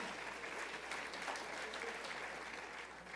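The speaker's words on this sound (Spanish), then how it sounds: "Denle un aplauso al Señor." A church congregation at a Spanish-language service claps steadily in a continuous, even wash of applause, fairly distant and soft in level.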